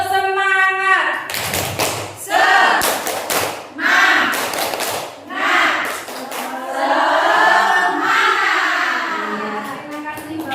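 A group at an Indonesian school guidance-counselling gathering performs the tepuk semangat, a rhythmic clap chant: voices chant in unison, punctuated by sharp, patterned bursts of hand claps, loud and close, repeating over several seconds.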